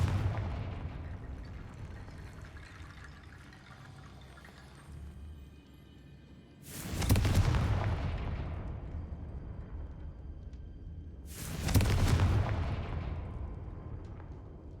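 Confringo fire spells in the video game Hogwarts Legacy burst in two loud, booming explosions several seconds apart, each trailing off into a rumble over quiet background ambience.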